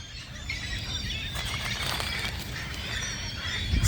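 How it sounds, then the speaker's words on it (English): Several hundred seagulls call at once in a dense, overlapping chorus of squawks, moderately distant and steady throughout. "Some mean angry seagulls all over the place."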